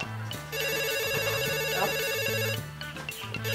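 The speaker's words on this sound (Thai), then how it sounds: "ไหนโทรศัพท์" A telephone rings steadily and loudly in a Thai rural setting, its electronic tone repeating in quick rhythmic bursts throughout, with no talk over it.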